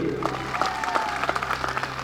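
Audience at a political rally for Akhilesh Yadav clapping steadily as a crowd, under a sustained droning tone with some voices mixed in.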